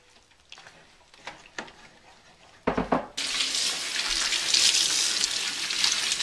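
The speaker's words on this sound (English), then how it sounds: "Run your frozen puree under hot water for a few seconds to loosen it up in the bag." Hot water gushes from a kitchen tap over a bag of frozen puree, starting after a few scattered handling clunks and then running as a steady, loud hiss.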